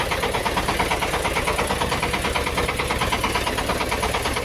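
A Shifeng 350L mini tractor engine idles steadily close by, with a fast, even chugging pulse that stays constant throughout.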